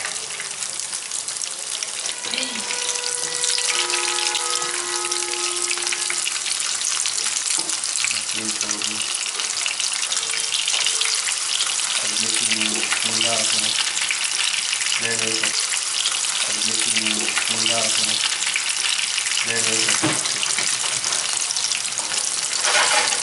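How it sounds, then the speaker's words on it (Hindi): Beef and potato sticks shallow frying in oil, a loud close steady sizzle crackling throughout, with intermittent stirring and clattering knocks in the pan. "ये देखिए इसको हल्का सा शैलो फ्राई करना है।"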